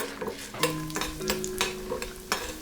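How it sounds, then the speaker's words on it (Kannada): Peanuts, urad dal and chana dal fry in hot oil, giving a steady close sizzle broken by a few sharp stirring scrapes and spoon knocks against the pan. "ಎಣ್ಣೆ ಬಿಸಿ ಆಗ್ತಿದ್ದ ಹಾಗೆ ಕಡಲೆಕಾಯಿ ಬೀಜ, ಉದ್ದಿನಬೇಳೆ, ಕಡಲೆಬೇಳೆ ಒಂದೊಂದಾಗಿ ಹಾಕಿ ಎಣ್ಣೆಯಲ್ಲಿ ಹುರ್ಕೊಳ್ಳೋಣ"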